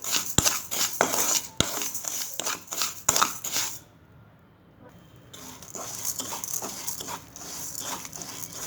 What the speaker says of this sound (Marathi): साखर वितळत असताना सतत हलवत राहायचं आहे